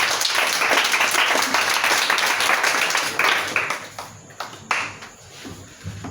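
A church congregation claps and cheers in acclaim of Jesus, loud dense applause that thins out and fades into scattered claps after a few seconds.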